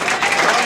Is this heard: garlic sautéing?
no